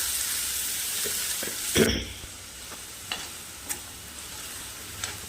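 Steady sizzling of onions frying in a pan, with a few clicks and scrapes of stirring over the hiss.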